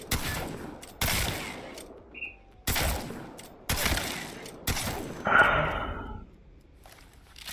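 Mastiff shotgun firing in the video game Apex Legends: five heavy, spaced blasts about a second apart, each with a sharp attack and a short decaying tail, loud and close, with a quieter reload-like clatter between shots.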